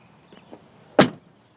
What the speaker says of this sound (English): Doors sound pretty tinny.